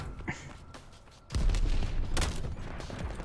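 A burst of Call of Duty Vanguard gunfire breaks out after a quieter start, with dense overlapping shots and booms that stay loud through the end.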